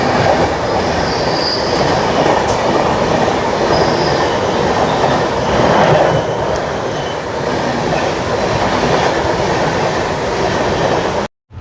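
Express train running through Peddapalli junction on the Secunderabad to Sirpur Kaghaznagar route, heard from on board as a loud, steady roar of wheels and carriages with faint squeals, continuous for about eleven seconds before cutting off.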